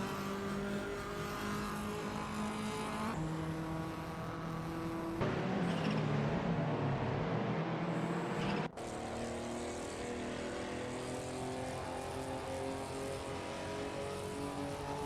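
AI-driven sportscars race around Forli Circuit in a racing game, engines droning and shifting pitch as cars pass, with one louder close pass before the steady multi-car hum returns.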